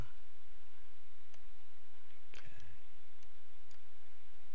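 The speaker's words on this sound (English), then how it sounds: "I'll turn on the data column by right-clicking the column's header." A computer mouse clicks at a desk, with several sharp, isolated clicks spaced a second or so apart over a constant low electrical hum.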